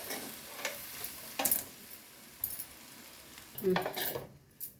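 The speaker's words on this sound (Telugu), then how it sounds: "అన్నం మొత్తం కలిసేటట్టు కలుపుకోవాలి" A spoon scrapes and stirs cooked rice with cabbage in a pan, with intermittent scraping strokes over a soft, steady sizzle, fairly quiet and close.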